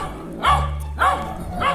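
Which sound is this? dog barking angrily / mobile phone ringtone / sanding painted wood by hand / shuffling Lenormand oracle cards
dog barking angrily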